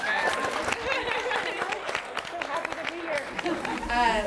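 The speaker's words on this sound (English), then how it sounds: "I think we need to give Jandy applause for just being here" An audience at a young-adult author panel in a Waterstones bookshop gives a guest a round of close, steady clapping mixed with murmuring chatter, lasting throughout.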